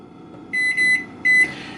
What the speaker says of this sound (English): We'll set a kitchen timer